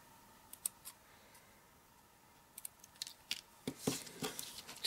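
Scissors snipping through card sentiments in a quiet crafting space, with soft, scattered clicks and snips that grow denser toward the end, close and faint.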